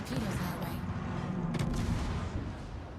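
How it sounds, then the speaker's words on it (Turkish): Naval artillery booms and gunfire fill a World of Warships battle, with heavy, dense rumbling blasts and a sharp report partway through, while players talk over the combat. "Adamlar bize ateş ediyorlar"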